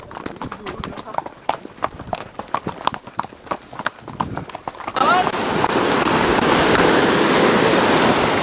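Horses clip-clopping along a nature trail near Ibagué, a run of sharp hoof beats for about five seconds with people talking, then giving way to a loud, steady rush of water or wind.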